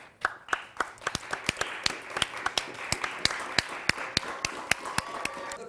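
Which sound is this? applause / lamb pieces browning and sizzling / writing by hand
applause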